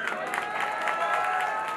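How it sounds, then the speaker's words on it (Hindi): Applause and cheering from a crowd at a live desi music performance, a steady, dense wash of clapping lasting the whole moment with no talk over it. "प्लीज जोरदार ताली प्लीज"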